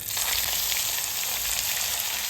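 Cumin and green chillies fry in hot oil with mustard seeds for North Indian-style poha, a dense, even sizzle that stays loud and close throughout.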